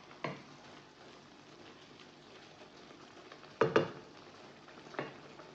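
Minced meat for a quiche cooking in a pan, a soft low sizzle running under a few louder clinks and scrapes of a utensil stirring against the pan.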